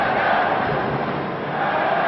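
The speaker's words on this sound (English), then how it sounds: "A capacity crowd beating the drums, yelling the chants" A capacity crowd at a 1990 ice hockey world championship game between Sweden and Canada roars continuously, a dense wash of yelling and chanting with drumming buried inside the steady din.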